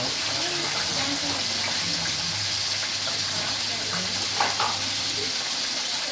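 Shrimp frying in a generous amount of oil make a continuous hissing sizzle with a steady low hum underneath, rising briefly near the end.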